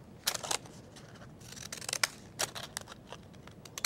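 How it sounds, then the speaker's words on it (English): Decorative scissors snip through folded cardstock in short crisp bursts, several cuts spaced irregularly, close and fairly quiet with no talking. "we're going to grab our decorative scissors again and cut"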